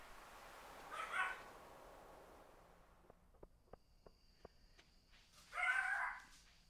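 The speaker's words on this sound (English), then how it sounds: "The pup got very upset." A dog in the video game Stardew Valley gives two short, clear whimpering yelps a few seconds apart, with faint ticking clicks between them in an otherwise quiet scene.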